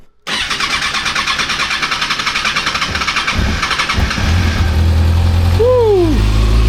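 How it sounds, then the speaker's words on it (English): Motorcycle with a stock exhaust cranked on a cold start, catching after a brief whir and settling into a loud, close, steady idle with a rough, rapid pulsing rumble, plus a short rising whistle near the end. "The startup of the stock exhaust."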